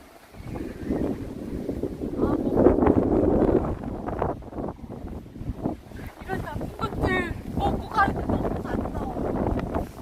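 Strong wind whips across the sea during a storm warning while fishing at Cheollipo, Taean. Rough, gusty rumbles buffet the microphone close up, and voices break in at times.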